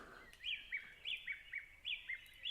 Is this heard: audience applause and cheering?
no